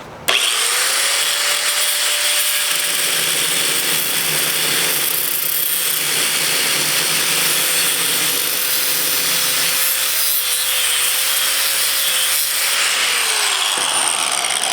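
An angle grinder with its guard removed plunge-cuts into a workpiece, a loud, steady high-pitched grinding whine that holds for about thirteen seconds before spinning down, with no talk.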